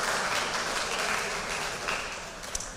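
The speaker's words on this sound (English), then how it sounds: "Let's give another big round of applause to the varsity boys tennis team" A crowd applauding at a high school winter and spring athletic banquet, steady broadband clapping filling the room for about three seconds, loud and continuous with no talk over it.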